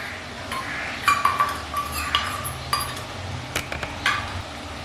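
Tomato, garlic and ginger paste being sautéed in a pan over a low flame, with a soft steady sizzle under light clinks and scrapes of a spoon stirring against the metal.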